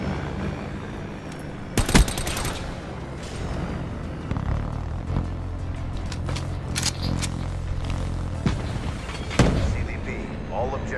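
Rapid automatic gunfire from a new DLC gun in Black Ops 3, sharp bursts and scattered shots over a busy battle din, with a voice talking throughout.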